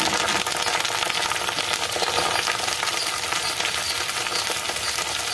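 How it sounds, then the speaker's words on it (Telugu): Coriander leaves frying in hot oil for a preserved coriander chutney give off a loud, steady, dense sizzle that holds without pause throughout. "నూనె కాగినప్పుడు ఈ కొత్తిమీర ఇందులో వేసేసుకోవాలి"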